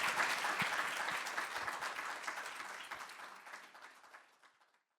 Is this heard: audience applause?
yes